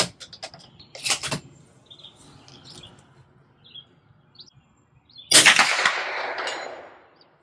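Two bursts of .22 LR high-velocity hollow-point rifle shots ring out against steel plates outdoors, a cluster of sharp cracks early on and a louder impact later with a ringing, fading tail, and faint bird chirps in between.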